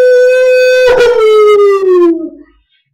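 A voice imitates an animal howl, a single long, loud, sustained ow-like wail that slides slowly downward in pitch before trailing off.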